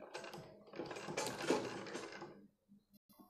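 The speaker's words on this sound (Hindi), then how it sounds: "तो मैं इसको सिलाई कर लेती हूँ यहाँ से।" A sewing machine stitches lace onto fabric in a quiet burst of rapid mechanical chatter lasting a couple of seconds, then stops, leaving a few faint clicks.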